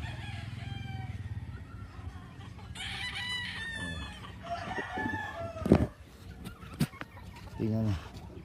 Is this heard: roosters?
yes